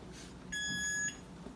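A Maytag Neptune washing machine control panel with an error gives one sharp electronic beep of about half a second, standing out against a quiet room.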